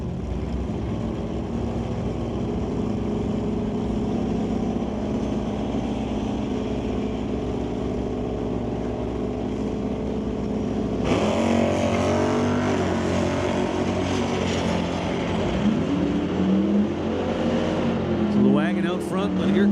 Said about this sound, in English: But here comes the Mustang.